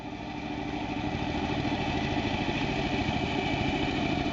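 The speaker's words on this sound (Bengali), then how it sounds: "প্রদীপ বিশ্বাসের নৌকা মেশিনে যারা কাজ করেন" Boat-mounted weed cutting machine with its engine running at a steady, continuous idle, a droning hum with a low rumbling pulse that holds constant throughout, close and fairly loud with no talk.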